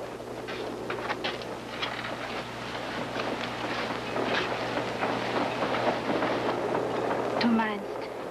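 Inside a moving passenger train, a steady low rumble and hum runs throughout with faint rhythmic clatter, while people talk quietly over it.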